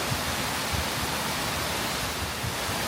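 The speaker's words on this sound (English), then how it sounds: "Look at that waterfall." A waterfall in the gorilla enclosure at the San Diego Zoo gives a steady, full-bodied rushing roar that carries evenly through the whole stretch, with no voices over it.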